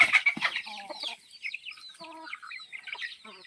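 Free-range desi village hens cluck in short, close bursts, several birds calling one after another with brief quiet gaps between.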